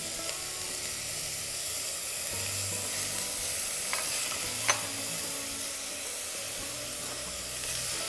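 Garlic and onion sizzle in hot oil in a pan, a continuous close hiss with light stirring and a single sharp tap midway.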